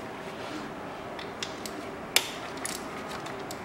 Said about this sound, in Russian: Откручиваем два вот этих болта.